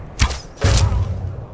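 An arrow shot in Skyrim Special Edition: a sharp bow release followed by a heavier thudding impact, two close, distinct hits with a short tail of rumble and no talking.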